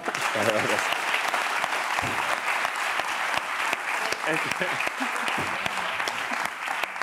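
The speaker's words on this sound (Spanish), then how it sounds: "un aplauso para Fer" Sustained applause from a television studio audience during a talk show interview, a dense, even crackle of many hands clapping that continues throughout, with voices occasionally cutting through.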